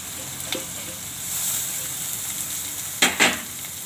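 Green chilies and grated papaya sambharo dropped into oil tempered with mustard seeds hiss in a steady, close sizzle, flaring into two sharp louder bursts near the end as more goes in.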